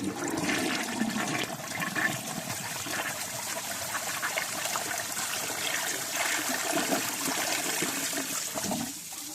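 A Crane Neuday toilet on a Home Depot Value tank, with a four-trap bowl using about 2 gallons, flushes loudly. The rush and trickle of water runs continuously for about nine seconds before tapering off at the end.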